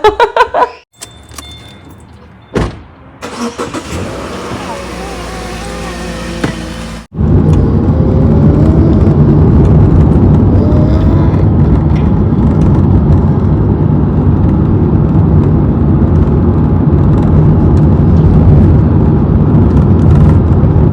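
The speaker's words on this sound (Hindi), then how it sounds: "यहाँ पे गाड़ी पार्क कर दी हम लोगों ने" A car drives along with steady engine and road noise filling most of the stretch, after a few brief handling sounds and a quieter interior passage, ending with the vehicle being parked.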